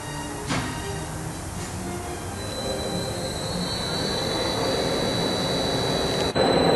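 Large oil country lathe with its spindle running in an industrial shop, a steady loud mechanical whine and rumble with a high tonal squeal rising partway through, continuous throughout with no talking.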